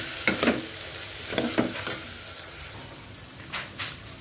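Mutton curry being stirred in a pan as it fries, with a few separate bursts of scraping and sizzle around a soft steady frying hiss, close by and fairly quiet, no talking.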